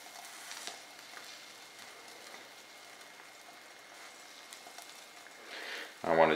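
An egg seasoned with salt and pepper frying in a pan, giving a faint, steady sizzle throughout before a voice breaks in near the end.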